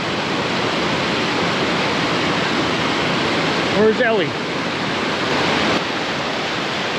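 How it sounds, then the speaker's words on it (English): Macintosh Brook Falls pours in a steady, close roar of broadband rushing water, with a voice briefly speaking over it partway through. "Macintosh Brook Falls."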